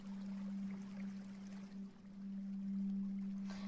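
Quiet water ambience from the game Spirit City Lo-Fi Sessions, a faint continuous trickling stream over a low steady hum, with no talking.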